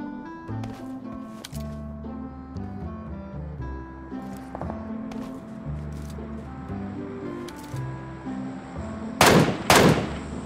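Game gunfire from a DMR rifle in PUBG Mobile, with scattered shots over a busy mix of in-game music and ambience, ending in two loud, sharp bursts near the close.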